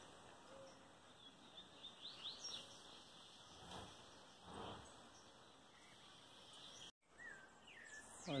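A songbird chirps in the bush with rapid, fairly faint calls among a steady chorus of background birds and insects, and no talking.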